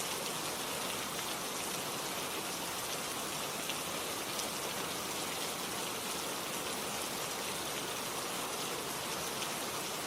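Steady, dense rainfall hisses evenly and continuously across a surface, a constant wash of drops with no talking.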